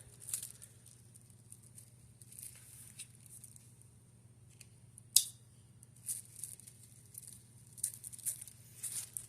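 Scissors snip through the backing of double-sided tape in a quiet room, giving a few close, crisp cuts and light patters, with one sharper snip in the middle and steady low hum underneath.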